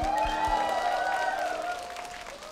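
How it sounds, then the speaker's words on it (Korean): Audience applause at a Korean singing class, steady clapping filling the room under a sustained tonal backing, fading slightly toward the end. "박수 한번 주세요"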